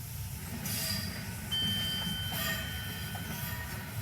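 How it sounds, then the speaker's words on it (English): A Nova 1 train in a simulator creeps slowly into Morpeth station, giving a steady low rumble with faint high squeals and tonal whines from the wheels and brakes, and no talk. "the train is now slowly crawling into Morpeth"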